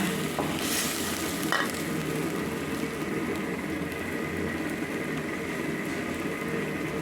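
Marinated pork stir-fried in a pan sizzles loudly and steadily from start to finish, with a few brief scrapes of stirring rising over the constant frying hiss.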